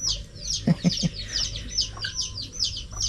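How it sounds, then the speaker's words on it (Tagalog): Chickens cluck in a few short bursts near the start, with birds chirping steadily in the background and a low rumble underneath. "manok"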